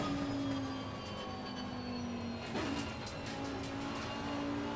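Lamborghini race car in the racing game Assetto Corsa Competizione, idling and rolling gently during a warm-up lap, a steady engine drone with a brief rise in revs midway, moderately quiet and without talk.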